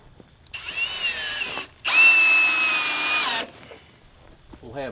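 A power drill drives screws into wooden stair treads, two close, loud bursts of rising motor whine, the second longer, with a short pause between and quiet afterward.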